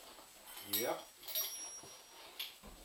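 Metal bolts clinking and scraping as they are handled while refitting a brake caliper on a 2005 Ford Mustang V6 fastback, a few faint, close metallic taps with a quiet French voice briefly speaking.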